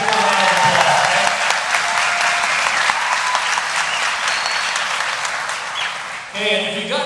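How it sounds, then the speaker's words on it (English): A gala audience claps steadily for a donor, a loud, dense, continuous round of applause that thins toward the end as a voice begins speaking. "Give her a round of applause"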